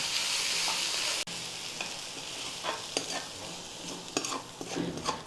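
Chopped onions sauté in a hot pan for adai dosa, with a steady close sizzle and repeated scraping, clinking stirs throughout and no voices.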